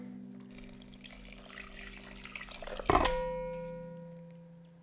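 Another cup of water poured into a planter, a close steady stream that builds, ends in a sharp splash near the finish, then rings out and fades.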